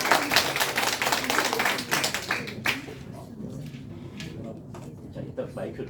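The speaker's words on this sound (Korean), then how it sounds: "큰 박수로 부탁드립니다." An audience claps to welcome a lecturer at a mock-exam lecture, a dense burst of hand claps loudest at the start, then thinning into scattered taps and rustle by the end.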